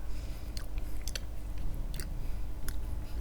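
Close crunchy chewing of takoyaki, steady wet bites and crunches repeating through the whole stretch over a low background hum, with no talking.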